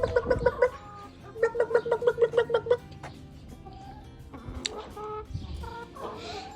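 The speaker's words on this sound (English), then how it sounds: "And now I'll show you the chickens. These are the chickens for laying." Laying hens on a family farm in the Azores cluck in two quick bursts of close, rhythmic calls, then quieter scattered clucks and farm sounds follow.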